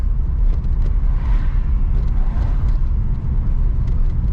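An old car on very bad tires rolls along at about 25 mph on its first drive after sitting for 17 years. Engine and road noise stay constant and close, a broad steady drone.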